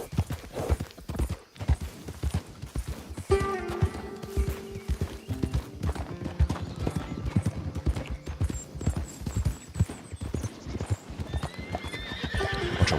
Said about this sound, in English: Bunch of wild horses over here.